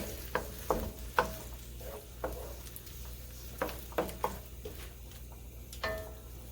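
Egusi fries in a pot, a faint steady sizzle broken by repeated close knocks and scrapes of a spoon against the pot.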